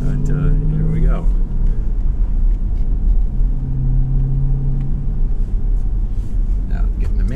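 A 2018 Jeep Grand Cherokee Trackhawk launching with launch control, a deep, loud engine rumble that rises and holds close up, with someone talking over the engine.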